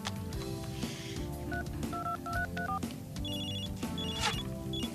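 A telephone is dialed to make a call: a rapid run of distinct DTMF key tones, some held and repeated, over a soft background bed from a French-language TV series, with no speech.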